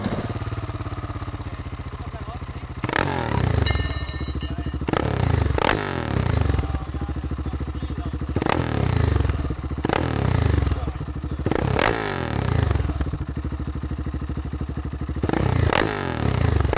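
A KTM SMC R 690 motorcycle with its dB killer removed from the exhaust gives a series of sharp, loud revs, roughly seven bursts in quick succession over a steady idle, close by.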